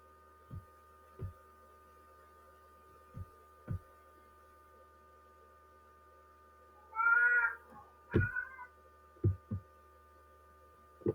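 A pet cat gives a couple of short meows close by, heard partway through over a steady electronic hum and scattered soft thumps, with no talking.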